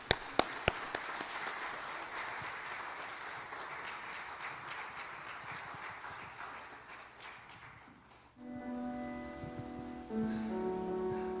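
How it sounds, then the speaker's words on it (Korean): An audience at a church gathering claps steadily for an elderly elder called up to sing an encore. The claps fade out and a sustained musical tone takes over near the end. "박수로 한번 모시겠습니다."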